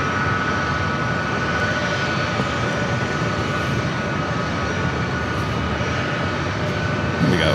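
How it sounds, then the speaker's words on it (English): An Air Canada Airbus A220-300 jet airliner arriving at San Diego airport, heard as a steady, fairly loud engine roar with a faint whine, sustained evenly throughout with a slight swell near the end. "Our next arrival, Air Canada, Flight 1093, committed from Toronto. It's an Airbus A220-300."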